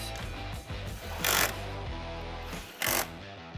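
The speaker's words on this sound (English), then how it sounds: "We're going to thread our 10mm nuts back on. And we're going to reinstall our 10mm bolts." A power tool drives 10mm nuts and bolts while a Ford Super Duty side mirror is reinstalled, a steady mechanical whir broken by two short louder bursts of hissing, rattling spin, close and without talk.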